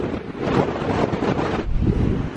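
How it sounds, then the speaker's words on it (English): Strong gusts of wind batter the microphone outdoors in a sheltered labyrinth, a loud continuous rumbling roar that swells and dips without any voices. "It's a bit blowy, so we're taking shelter in the labyrinth here"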